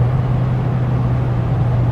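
A car engine with a non-synchro gearbox hums steadily and close during a double-clutch shift into third, its low drone holding even for the brief moment without a clear rev spike.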